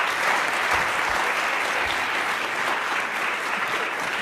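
A debate audience applauding in a hall, dense and steady clapping from many hands that holds at an even level for several seconds, with no voices over it.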